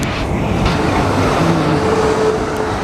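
A South Western Railway Class 450 electric multiple unit passes close by, giving a loud, steady rushing roar with rumbling wheels on rail, alone and without voices.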